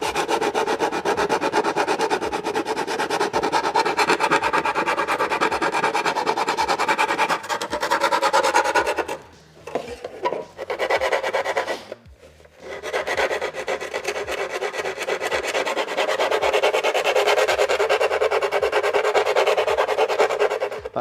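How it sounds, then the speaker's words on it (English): Sanding along the edge of a TIE pilot helmet, a loud, steady abrasive rasping that carries on with brief pauses near the middle before resuming alone. "I'm sanding this edge"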